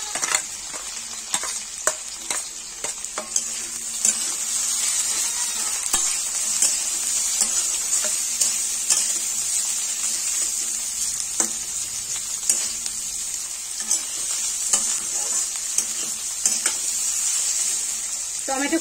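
Chopped onions fry in a pan for a Bengali kudri aloo posto (ivy gourd and potato with poppy seed), giving a steady close sizzle broken by regular scraping stirs, with no one talking.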